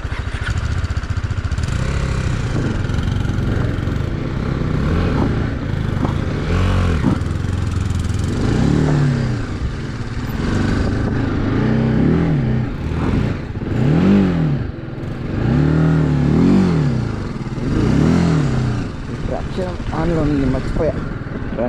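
An off-road motorcycle engine climbs a slope in the Horsley Hills, revving in repeated surges and dips over a steady drone, with people talking at the same time.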